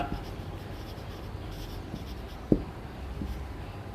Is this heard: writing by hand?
yes